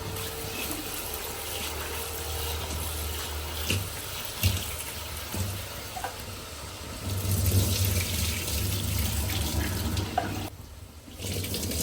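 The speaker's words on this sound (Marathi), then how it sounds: "स्वच्छ नळ आहे पिण्याच्या पाण्याचा, त्यामुळे मी डायरेक्ट नळाखाली धुत आहे" Drinking-water tap running as rice and lentils are rinsed under it in a home kitchen, a steady close hiss and splatter of water lasting throughout, swelling louder midway with brief clinks, no talking.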